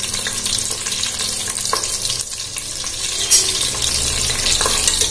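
Slit green chillies frying in oil over a high flame, a loud, continuous crackling sizzle with stirring scrapes throughout and no voices.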